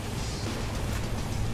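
A loud, continuous roaring blast of explosive noise fills the clip, dense and sustained, as a car blows up in Saints Row: The Third Remastered.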